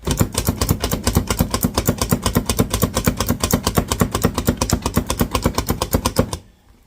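A knife chops and minces garlic on a board in a fast, steady run of sharp, close taps that keeps going for several seconds and then stops abruptly.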